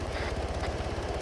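A helicopter in the video game Arma 3 thrums steadily in flight, a loud close rotor beat with rapid regular pulses over a low engine drone.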